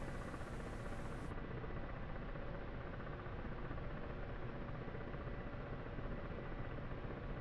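Steady, dense whirring drone of a Ka-50 helicopter in the DCS flight simulator, continuous and unchanging at an even loudness with no talking.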